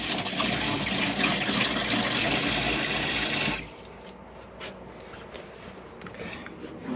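Water runs steadily and loudly from a tap in a Globecar Summit 640 Prime motorhome, fed by a pressurised pump and hot water system, then cuts off abruptly midway, leaving a quiet room with faint small clicks and movement.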